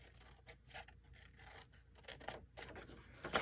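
Soft, close snipping and scraping of scissors cutting paper, several quiet cuts in an uneven rhythm, ending with a louder crisp snip.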